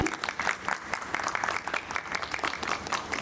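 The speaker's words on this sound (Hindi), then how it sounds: "तालियों के साथ स्वागत करें।" Audience applause welcoming a guest called up to be honoured at an Independence Day ceremony at a labour institute; steady, dense clapping from a crowd throughout, with no talk over it.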